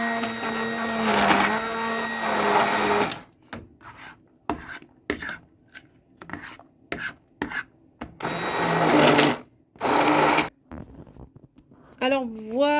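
An electric mixer blends sweet butternut squash tart filling in a home kitchen, running in short pulsed bursts between stretches of close talking.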